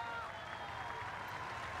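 A crowd applauds at the opening of an agricultural exposition, a soft, distant wash of clapping with a low hum and murmuring beneath it.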